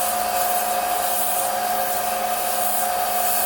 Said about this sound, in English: the best way to do that is to freehand it with coarse sandpaper